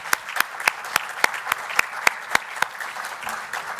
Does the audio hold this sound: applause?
yes